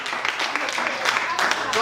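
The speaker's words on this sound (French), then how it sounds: "Applaudissons pour son prof qui est un de ses premiers profs." An audience applauds a teacher at an arts venue, a continuous patter of clapping with a voice talking over it.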